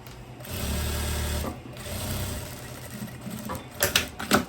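A sewing machine runs in steady bursts, stitching a hem on tailoring fabric for a long vest and shorts, with a sustained hum for about a second and a half, a pause, then softer running and sharper clicks near the end.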